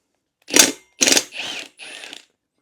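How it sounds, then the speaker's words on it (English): A ratchet working loose the bolts on a brake rotor from a Yamaha RoyalStar 1300 V4 motorcycle, close and alone: four quick bursts of mechanical clicking, the first two louder and sharper, the last two softer. "Now we can unbolt our brake rotor."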